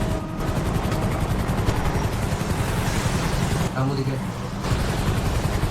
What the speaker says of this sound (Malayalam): ഹെലികോപ്റ്റർ ഒക്കെ വന്നിറങ്ങി